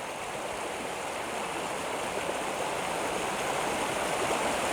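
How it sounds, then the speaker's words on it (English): A mountain stream in the Troodos Mountains of Cyprus trickles over stones with a steady, close, full rushing and babbling and no voices. "you come across stone after stone after stone and trickle after trickle after trickle"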